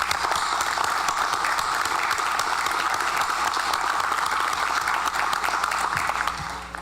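A room full of people at a town meeting claps steadily for about seven seconds, a dense even roar of many hands that fades out at the end.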